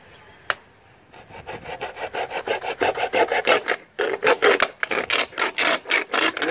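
Plastic bottle being cut with a blade to make a homemade broom, a close, steady run of rhythmic rasping strokes that follows a single sharp click and continues with a brief pause midway.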